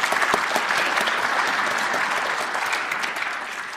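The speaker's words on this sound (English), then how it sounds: "Give yourselves a round of applause." Audience at the 7th BC Cabinet and First Nations Gathering breaks into loud, sustained applause, a dense wash of clapping that fades slightly toward the end.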